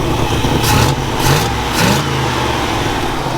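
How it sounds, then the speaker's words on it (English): A 1964 Chevelle engine runs loudly nearby with a rough, throaty exhaust from an exhaust leak, rising in a few brief revs over a steady idle. "she's running good though. Sounds really good. Except for the exhaust leak."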